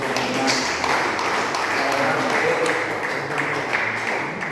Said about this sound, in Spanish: Denle un fuerte aplauso aquí al Señor